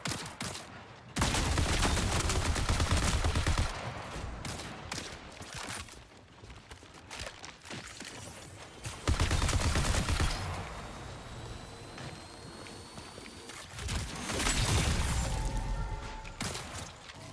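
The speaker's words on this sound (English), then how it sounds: "I heard some gunshots" Bursts of gunfire in the sci-fi shooter Marathon, several loud volleys and scattered shots with thuds and mechanical clatter between them, rising and falling over the stretch.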